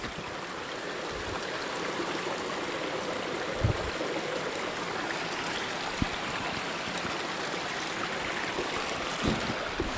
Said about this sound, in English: Still good water running.